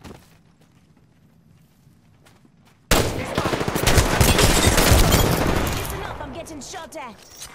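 Sustained gunfire from the video game Apex Legends bursts in loudly after a few quiet seconds, a dense rapid volley of shots that rattles on for several seconds before tapering off, with faint voice chatter underneath.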